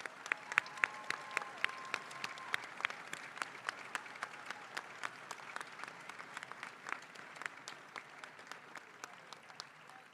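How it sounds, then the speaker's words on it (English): Commencement audience at a civil, construction and environmental engineering graduation applauding new Environmental Engineering bachelor's graduates, a steady roomful of clapping with sharp individual claps standing out, holding for about ten seconds. "Let's give our students a round of applause."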